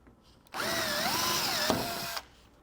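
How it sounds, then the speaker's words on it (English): A power drill with a 3/16 drill bit bores out a rivet under a 2018 Jeep Cherokee, one steady close whine lasting under two seconds that starts and stops abruptly, with no talking. "you're going to have 2 rivets that we need to drill out"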